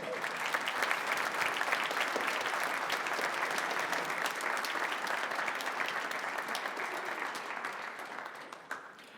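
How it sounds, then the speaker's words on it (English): A concert band audience at an annual veterans concert gives a full round of applause for the Michigan Warrior Clowns, a steady roar of clapping that slowly tapers off toward the end. "Give them another round of applause."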